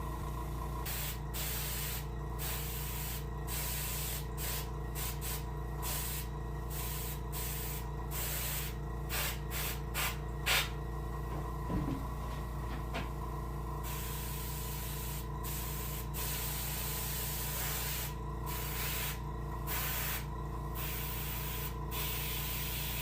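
Airbrush or spray gun painting a brook trout taxidermy mount, steady hiss broken by repeated short bursts and pauses, close and fairly quiet, with no talking.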